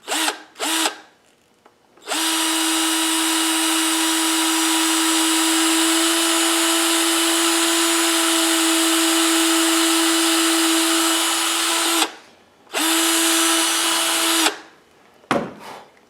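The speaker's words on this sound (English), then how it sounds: "Now I'm going to drill a hole right through here." A power drill whines steadily through a long run while boring a hole for a bear claw necklace, with a few brief starts and stops before and after the main stretch of drilling.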